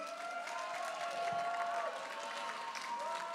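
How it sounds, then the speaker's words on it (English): Faint, distant applause from an audience at a cooking competition after the judges' remarks, a thin steady patter of clapping with some crowd murmur. "Can we have a round of applause?"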